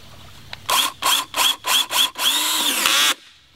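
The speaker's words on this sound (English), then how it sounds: "So now I'm going to put some holes for my screws. I'm using a 9/64 inch bit." A power drill fitted with a 9/64 inch bit bores screw holes in a rubber-lined flume. Five short whirring bursts are followed by one longer run, all close and loud with no talk.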